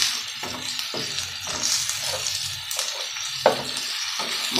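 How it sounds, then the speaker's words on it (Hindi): Onions and green chillies fry on a high flame, crackling and sizzling continuously, with repeated scraping bursts as the pan is stirred. "तेज़ फ्लेम के ऊपर आपने इसको पकाना है।"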